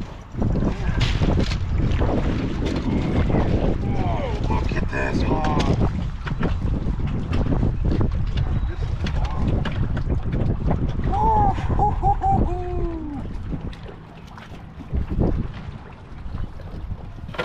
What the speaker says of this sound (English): we got crazy windy conditions